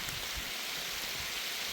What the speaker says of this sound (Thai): ฝน ฝนตกพี่น้องเอ้ย